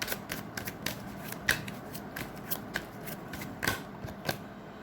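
Tarot cards being shuffled by hand, a quick series of close, soft riffling flicks and slaps in an uneven rhythm, fairly quiet with no talking.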